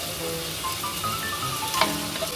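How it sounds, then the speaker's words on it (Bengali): Fried potato and green banana pieces go into a sizzling onion-spice masala in a pan, giving a steady close crackle with a brief clatter partway through and no talking. "ছেড়ে দিলাম আলু আর কাঁচকলা ভাজাগুলো আমরা এই কষার মধ্যে ছেড়ে দিলাম।"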